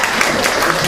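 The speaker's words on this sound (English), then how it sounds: "How about a round of applause for that?" A meeting audience at an IEHA gathering in Hawaii claps in a dense, steady burst, filling the moment with close, continuous applause.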